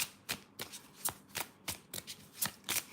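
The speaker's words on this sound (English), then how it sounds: "I'm going to pick a card for Raquel" Tarot cards being shuffled up close, a quick series of about ten crisp riffling bursts at a fairly regular rhythm, quiet overall.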